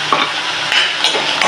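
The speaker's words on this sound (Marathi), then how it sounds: "कांदा चांगला फ्राय होऊ देऊ त्यामध्ये।" Onion frying in oil in a home kitchen pan, a steady close sizzle with a few stirring scrapes and no voices.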